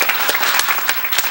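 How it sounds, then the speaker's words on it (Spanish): A studio audience applauds to welcome a guest, with steady, dense clapping that fills the whole short stretch at close range. "lo vamos a recibir con un aplauso"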